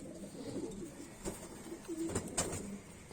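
Yellow-eyed kaldume and kalpare pigeons coo at close range in a home loft in Bareilly, low throaty rolling calls repeating in soft overlapping bursts with a few sharp clicks.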